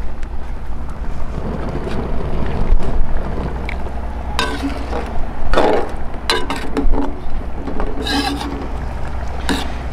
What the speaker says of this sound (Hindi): आज थोड़ी हवा चल रही है, इसलिए वीडियो बनाने में थोड़ी मुश्किल पेश आ रही है।